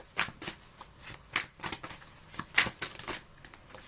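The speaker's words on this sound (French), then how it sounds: "Ou si je tire les cartes directement pour vous." Tarot cards are shuffled and drawn for a card reading, with close, crisp riffling and flicking in quick bursts and short pauses.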